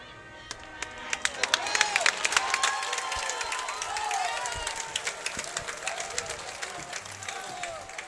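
Crowd noise at a high school football game at Landis Field, Central Dauphin hosting Susquehanna: a constant murmur of spectators with scattered claps, shouts and whistles.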